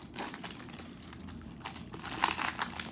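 Foil wrappers of 2020 Topps Series 2 baseball card packs from hanger boxes crinkle and tear up close, a busy continuous rustling that swells louder toward the end, with no talking.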